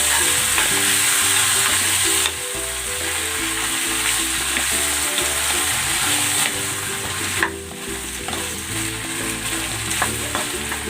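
Pork ribs with tomato sauce sizzle loudly in a pan, a dense continuous crackle close up, broken by the scrape and knock of stirring and a couple of brief dips in level, with no talk.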